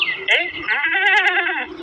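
A male goat bleats up close in one long, loud, wavering call that starts abruptly and holds steady before trailing off.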